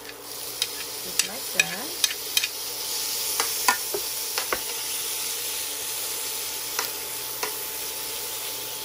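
Garlic and onion sautéing in a pan give a soft, steady sizzle, broken by sharp scrapes and taps of a utensil stirring. A brief voice is heard near the start.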